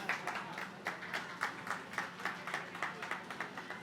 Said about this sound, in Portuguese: Uma salva de palmas para o meu modelo.